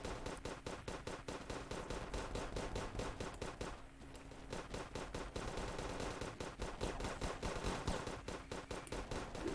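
Rapid automatic gunfire in a shooting video game, a fast continuous stream of shots with a brief pause in the middle before resuming, loud and dense throughout.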